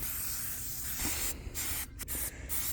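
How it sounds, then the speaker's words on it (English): Tire shine sprayed onto a faded mower tire in repeated hissing bursts, loud and close, with brief pauses between sprays and no talking. "so we're just going to spray the whole thing"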